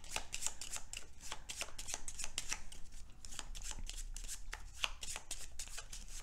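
Playing cards being shuffled, a rapid run of crisp riffling bursts repeating steadily throughout at close range.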